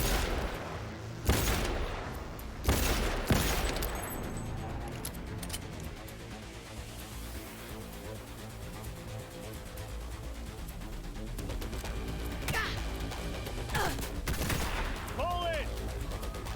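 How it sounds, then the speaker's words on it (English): Bursts of gunfire in a video game, with two loud heavy blasts early on followed by sustained rattling shots and scattered sharper cracks, busy and close throughout. "Keep firing, goddammit!"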